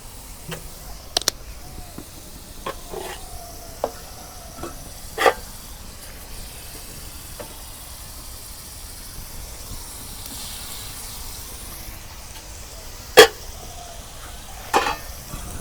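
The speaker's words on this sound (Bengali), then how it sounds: "শাক ভাজা হয়ে গেছে, আর নামি নেই।" Gourd greens stir-fry in a pan with a faint low sizzle, a few sparse sharp clinks and scrapes of the spoon scattered through a long quiet stretch, no speech.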